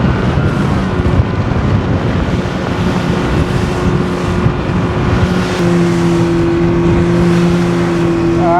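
A motorboat in Sri Lanka drones past on the water with a loud, steady engine hum and wind buffeting the microphone.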